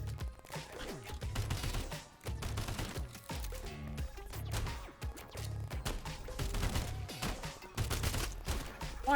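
Gunfire in the video game Sulfur, with dense, busy bursts of shots and impacts running over about nine seconds, layered with game music and effects at a steady high level.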